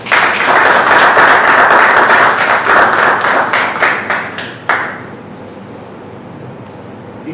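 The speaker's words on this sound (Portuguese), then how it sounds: "Um forte aplauso para o nosso homenageado." A press-conference audience gives a tribute honoree a loud, dense round of applause that thins into scattered individual claps and stops about halfway through, leaving quiet room tone.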